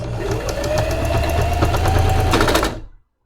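Sewing machine stitching a seam up close, a loud, rapid mechanical whir with a rising pitch that runs steadily before stopping abruptly near the end.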